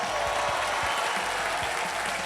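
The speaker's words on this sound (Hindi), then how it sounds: "जोरदार तालियां।" Dense, loud applause from a studio audience on the Wheel of Fortune game show, a steady wash of clapping with no break.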